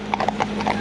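A horse walks along a road with a brief run of clip-clopping hoof beats, several quick knocks close by over a steady background hum.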